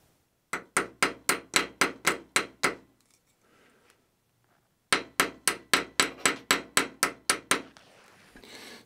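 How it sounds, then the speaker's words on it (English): Two quick bursts of sharp metallic hammer strikes mushrooming a rivet end on a 5-inch gauge railway trolley brake, about ten evenly spaced blows each, separated by a brief quiet pause, close and loud. "and then just hammer down the end"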